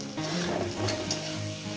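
Egg with snake gourd fries in a pan over medium heat, a steady close sizzle crackling without pause throughout.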